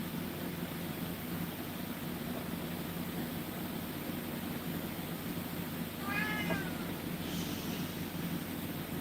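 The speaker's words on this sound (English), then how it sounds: "I can't cut out the times my cat meows, and he's very chatty" A chatty pet cat meows once, short and fairly faint, over a steady low room hum, with a softer second sound shortly after.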